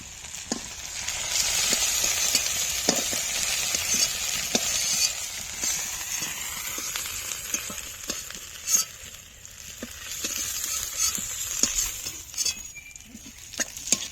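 Giant freshwater prawns fry in hot oil in a village-style kitchen, a steady close sizzle broken by frequent sharp clicks and scrapes of a utensil against the pan.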